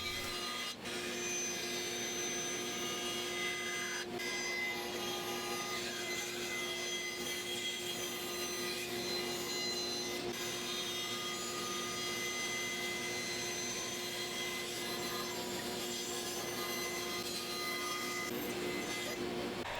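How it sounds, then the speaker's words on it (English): A bandsaw hums and rasps steadily, cutting out templates of 1/2-inch Baltic birch plywood with a glued-on pattern, the continuous buzz holding level throughout with faint high whine above it. "then I cut them out getting close to the lines on the bandsaw"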